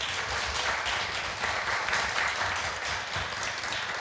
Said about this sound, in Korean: 우리 그분들에게 격려와 축하의 박수, 환호의 박수 한번.